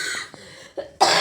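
A woman coughing with a cold, a couple of faint rough coughs followed by a louder, sharper cough at the end, close and alone without talk.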